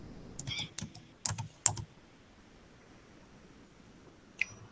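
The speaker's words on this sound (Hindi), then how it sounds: "तो टाइप करिए।" Several quick clustered clicks of typing on a computer keyboard, close and moderately loud, in bursts over the first two seconds, then quiet with one final isolated keystroke near the end.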